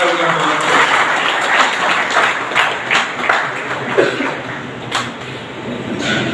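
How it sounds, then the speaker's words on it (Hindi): Crowd applause at an Indian farmers' political rally, a dense, steady wash of many hands clapping that carries through the whole stretch with a few louder bursts and no clear speech. "तालियां बजाकर"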